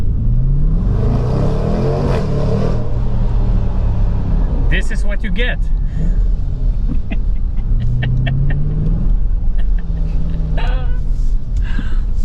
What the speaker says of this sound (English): Jaguar brings out a car with a V8 5-liter engine